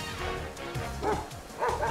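Cartoonish dog Pokémon yips and barks from Pokémon Scarlet, several short bright woofs spaced across two seconds over steady game music.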